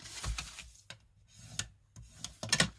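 Paper folded along score lines and burnished flat to make a reinforced gift box, heard as several short, close rubbing and rustling strokes separated by brief pauses, soft and dry.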